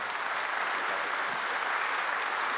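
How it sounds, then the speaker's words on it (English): Steady, dense applause from a live audience welcoming a panel onto the stage at a medical device podcast roadshow in Minneapolis, continuous and even throughout. "Let's go ahead and give them a round of applause."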